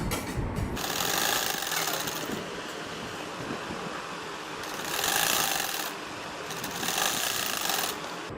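Sewing machine stitching a trouser hem (poncha), running in a steady, close whir with louder bursts of faster stitching, no talk.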